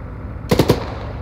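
Three fast, sharp gunshots ring out in the video game Arma 3, a quick close burst over a quiet background with a short trailing echo.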